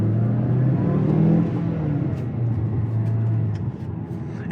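Mazda CX-5 accelerating in sport mode, a steady engine drone rising and pulling strongly from inside the cabin, then easing off near the end with a few small clicks.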